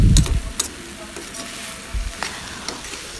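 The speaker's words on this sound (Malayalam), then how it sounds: "ചെറുതായിട്ടെല്ലാം കൂടെ ഒന്ന് ചേർത്ത് ഇളക്കി കൊടുക്കാം." A spoon stirring fenugreek and lentil thoran in a pan, giving a few soft scraping and tapping sounds over a low sizzle. The strokes are louder at the start and then quieter and sparse.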